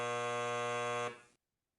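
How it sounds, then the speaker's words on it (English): A steady electronic alarm buzzer from a MakerPlot computer interface sounds for about a second, then cuts off abruptly into silence. "I can turn the alarm on for it."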